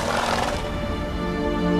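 Roach, a horse in The Witcher 3: Blood and Wine, gives a loud, close whinny that rises and then trails off into a held, wavering neigh.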